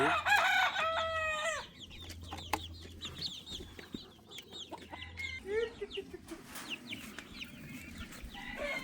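Yokohama, Bielefelder and other breed chickens on a hobby farm cluck and call close by, with a rooster crowing loudly at the start and scattered squawks and clucks continuing afterward.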